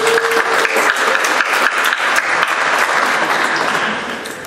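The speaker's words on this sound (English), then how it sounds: "Would you please give him a round of applause?" A conference audience at BruCON applauds the sound engineer, a dense, even wash of clapping from a full room that holds steady for several seconds before thinning out near the end.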